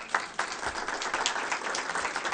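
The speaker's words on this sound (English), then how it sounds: "let's give them one more round of applause" A round of applause at a school board meeting, with many hands clapping in a steady, dense patter across the room that holds at moderate volume from start to finish, with no talk over it.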